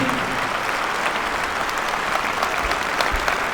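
Audience applause welcoming Dr. Devender Balhara at a parenting seminar in Delhi's Talkatora Stadium: dense, loud, sustained clapping from a large crowd, filling the whole stretch without pause.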